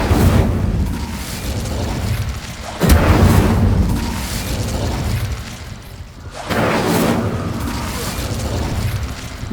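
Incendio fire spell cast in the Hogwarts Legacy video game, heard as repeated loud whooshing bursts of flame, each with a booming onset, about three of them spaced a few seconds apart.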